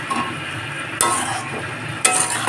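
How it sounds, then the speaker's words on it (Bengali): Bottle gourd with sugar, salt, turmeric, chilli powder and cumin being stir-fried in a pan, a continuous close sizzle with two sharper scraping strokes of the spoon. "এখন ভালো করে কষে নেব।"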